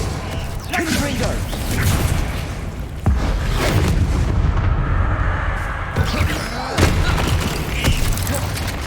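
Blasting spell bursts in a Hogwarts Legacy battle: heavy booming explosions and crackling impacts follow one another densely for several seconds, loud and close.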